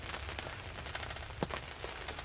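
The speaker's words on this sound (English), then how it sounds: "it's raining pretty good right now, if you can hear it" Steady rain falling on a surface during a turkey hunt in upstate New York, a dense continuous patter with a few louder drops standing out, no voices.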